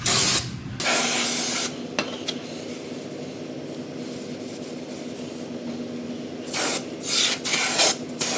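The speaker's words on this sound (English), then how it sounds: "Brake cleaner." Brake cleaner hisses from an aerosol can onto parts of a 1954 Clark forklift during wheel-bearing and drive-wheel work, in several loud, close bursts, two at the start and more near the end, with quieter rubbing between them.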